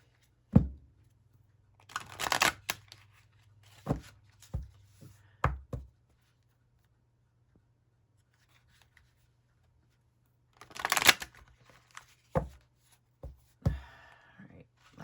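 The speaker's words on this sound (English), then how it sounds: "Yeah, let's shuffle." Tarot cards being shuffled by hand in bursts of riffling and soft slapping, with a steady low hum underneath and no talking.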